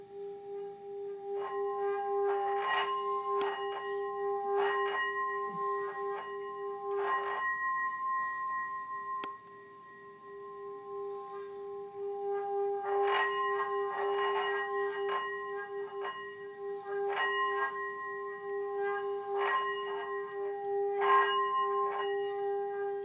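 A Tibetan singing bowl rings with steady sustained tones, struck repeatedly in clusters with pauses, its hum lingering softly between strikes.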